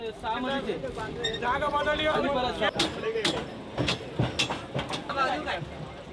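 A passenger train rolls along rails in Mumbai, carrying a steady rumble with rhythmic clatter and a few sharp knocks, while voices talk over the noise throughout.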